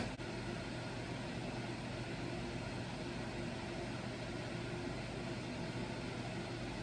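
Steady, dense sizzling of food frying in a hot pan, a continuous hiss with no talking.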